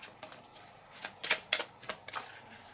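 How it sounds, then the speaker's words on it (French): Close, quiet riffle of a deck of service provider cards from a factory-building board game being shuffled, several crisp bursts in quick succession on a tabletop. "Je mélange les cartes prestataires."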